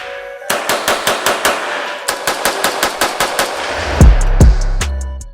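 Loud, close rapid semi-automatic gunfire from an M+M Industries M10X 12.5-inch pistol outdoors: about fifteen sharp evenly spaced shots, then a few heavier booming reports near the end, with no talking.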